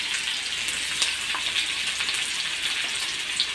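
Chopped onion, capsicum and carrot fry in white oil in a pan, giving a steady, loud, close sizzle with crackly bright spatters throughout and no voices.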